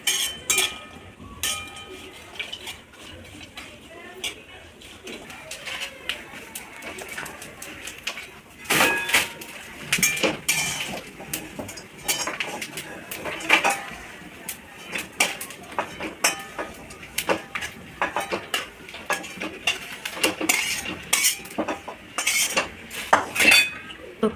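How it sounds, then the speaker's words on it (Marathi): Dry coconut being roasted for a homemade spice masala in a pan, with a utensil repeatedly scraping and clinking against the metal in a steady, busy rhythm, close and fairly loud, with a bird faintly calling in the background. "खोबरं पण ब्राऊन कलर येईपर्यंत त्याला चांगलं भाजून घ्यायचं."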